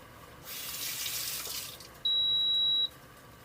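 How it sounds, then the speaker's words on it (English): An electric kettle finishes boiling: a soft rushing hiss of near-boiling water fades out, then a single sustained high-pitched beep sounds for almost a second, loud and close. "That's not the camera beeping, that's the kettle."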